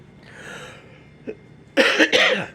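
Two harsh, close coughs in quick succession after a quiet stretch with faint breathing and a small throat sound.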